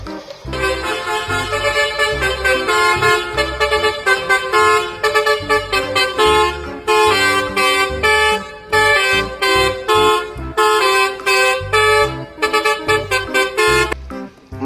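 A school bus horn sounds in loud, rapid bursts of melodic multi-tone toots, repeating rhythmically throughout with only brief gaps and no talking.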